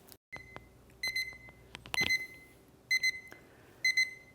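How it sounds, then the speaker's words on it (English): A battery-powered alarm beeps in short repeated bursts of high electronic tones, some single beeps and some rapid clusters, close and clear over a quiet background with a few clicks. "you can hear the alarm going off"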